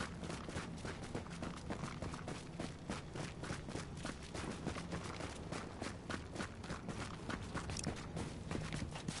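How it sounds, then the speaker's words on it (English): Quick, even footsteps in The Division video game, a steady run of soft thuds at a brisk pace across the whole stretch, faint and fairly close with no talking. "Wait, I thought I heard footsteps behind me."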